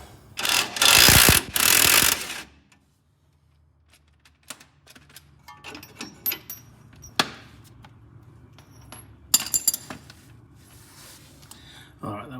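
A 17mm spanner works a shock absorber nut on a Ford Courier: a loud burst of rapid metallic ratcheting and scraping at the start, then sparse clicks, clanks and light knocks at close range.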